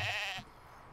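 Sheep bleating in the How to Train Your Dragon Wii video game: a single short, quiet, wavering bleat heard alone, cutting off after a brief moment.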